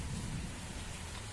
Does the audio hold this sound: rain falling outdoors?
yes